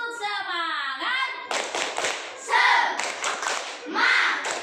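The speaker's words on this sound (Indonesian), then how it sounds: "yuk kita tepuk semangat dulu" Primary-school children in a classroom do a rhythmic spirit clap together, with bursts of sharp claps and taps mixed with chanted children's voices, loud and close.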